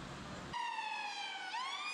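An ambulance siren wails after a brief burst of noise, a steady loud electronic tone with rich harmonics that dips slightly and then sweeps upward, heard alone and fairly close.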